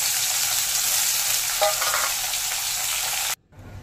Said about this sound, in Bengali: কাঁচকলা ভাজা হয়ে গেলে দিয়ে দিচ্ছি উচ্ছে।